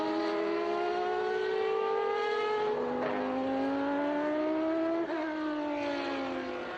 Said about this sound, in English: Mika driving that, I think the 1990 MP4 5B, one that Alan Prost drove